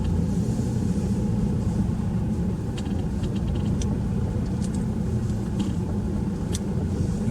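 Steady low engine rumble from inside a car as it turns around on a country road beside a lay-by, continuous and fairly loud, with a few faint clicks and knocks on top.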